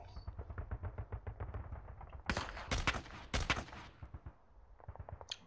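Nebelwerfer rocket artillery firing in the World War II strategy game Panzer Campaigns Bulge '44: a rapid train of sharp pulses, then several loud, dense blasts in close succession, easing back to softer repeated pops.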